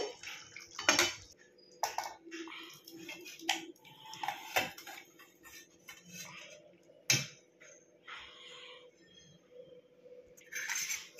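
Cauliflower korma being poured and spooned into a serving dish, with scattered clinks of a utensil against the dish and soft wet plopping, a few louder knocks standing out over a quiet kitchen background.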